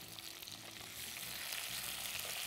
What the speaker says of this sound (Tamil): காய்கறி போட்டு நான் வதக்கிறேன்.